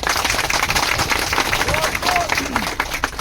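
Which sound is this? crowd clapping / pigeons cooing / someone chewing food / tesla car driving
crowd clapping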